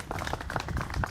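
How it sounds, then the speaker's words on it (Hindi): Village farmers from Bahadurpur clapping for themselves at an outdoor chaupal gathering: a short burst of dense, fairly loud overlapping claps from a group, with no talk over it. "बहादुरपुर के सभी किसान एक बार अपने लिए जोरदार से तालियां बजा ले भाई"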